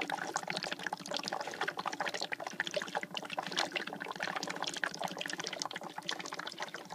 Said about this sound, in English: there's my bubbler.